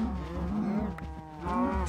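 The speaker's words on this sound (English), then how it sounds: "Wait for all the baby cows to grow." Cattle mooing in the video game Minecraft Skyblock, with baby cows among the herd: two drawn-out, close moos in succession, fairly loud and alone, with no talking.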